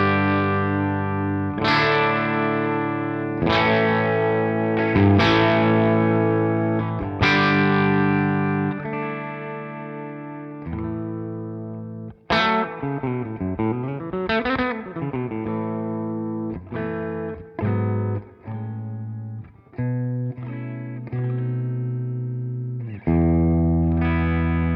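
Electric guitar from PJD Guitars, played through its bridge humbucker pickup, rings out in bright, jangly chords and picked single-note runs, with chorus and delay effects, close and sustained and no talking.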